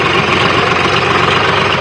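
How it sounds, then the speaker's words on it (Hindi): A tractor engine idles steadily on a farm field, a loud, continuous low rumble with constant vibration and no break for the whole stretch. "वो ट्रैक्टर तो सामने लगा हुआ है"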